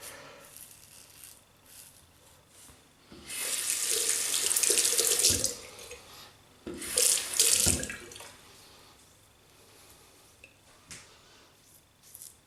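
Tap water runs into a sink to rinse off after a shave with a bakelite slant safety razor, a loud close splashing gush in two bursts with quieter trickling between.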